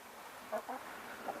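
Chickens and a rooster peck at fresh feed in their pen, giving a few soft, brief clucks over a quiet, faint background.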